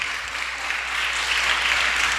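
A church congregation claps steadily, a dense and even wash of applause that holds at full strength from start to finish with no voices over it.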